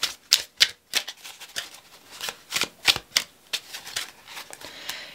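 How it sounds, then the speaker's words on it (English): A deck of tarot cards being shuffled by hand, a steady run of crisp riffling clicks and soft slaps in an irregular rhythm, close and clear with no talk. "I want to do a little bit of real-time shuffling"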